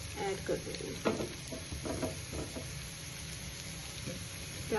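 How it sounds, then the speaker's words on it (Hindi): Onions soften in a pan, giving a faint, steady sizzle with soft stirring scrapes and light clatters, heard at low level with a faint voice in the background. "हल्का सा भून लेते हैं।"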